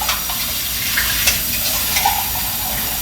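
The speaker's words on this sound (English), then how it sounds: "I'm gonna rinse this off in case we need" Running tap water pours over a pot being rinsed in a home kitchen, a steady hiss of flow with small clinks and splashes throughout.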